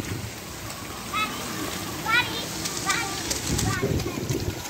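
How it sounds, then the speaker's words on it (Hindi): Heavy rain falls steadily with gusty wind in Garh Maharaja, a constant wash of noise with occasional splashes, while someone talks and children's voices are heard. "तो बारिश आप देख सकते हैं कैसे हो रही है।"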